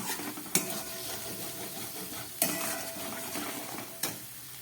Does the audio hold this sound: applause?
no